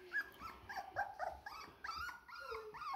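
A small dog makes a series of squeaky whimpers and yips with a low growl underneath, close up and fairly quiet, in short bursts across the moment while indoors near a sofa.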